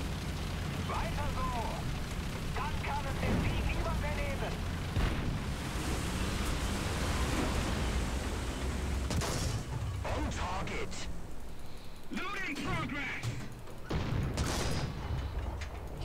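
Booming tank cannon blasts from War Thunder, fired by a StuG III, burst out repeatedly, loud and close, with someone talking over the noise.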